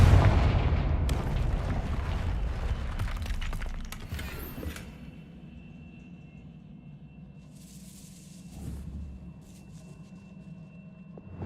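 A spell blast from the video game Hogwarts Legacy, cast as Confringo: a loud rumbling explosion that opens the clip and slowly decays into quieter crackling debris, with a softer thump later. No voices.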